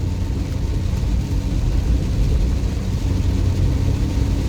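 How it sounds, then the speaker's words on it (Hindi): Steady low engine and road rumble from a car cruising at about 80 km/h on a road in heavy rain, a continuous droning noise with no speech. "गाड़ी की स्पीड है 80 किलोमीटर पर आवर"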